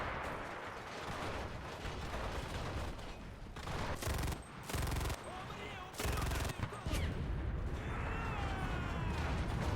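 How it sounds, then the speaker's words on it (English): Tank tracks jingle and clank in the World War II shooter Enlisted, a continuous metallic rattle mixed with bursts of gunfire and artillery, heard up close amid battle noise. "that tank's doing a lot of jingling and jangling over here"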